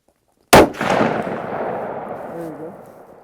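A single loud, close gunshot from a suppressed Ruger Precision Rifle in 6.5 Creedmoor cracks sharply, then a long rumbling echo decays over the next few seconds.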